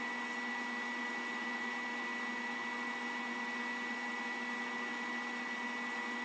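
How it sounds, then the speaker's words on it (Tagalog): An air conditioner running from an inverter powered by a 100 Ah LiFePO4 battery, heard as a steady, continuous mechanical hum with a constant tone and airy noise, unchanging and alone without talk. "Two hours at 19 minutes na umaandar yung aircon natin."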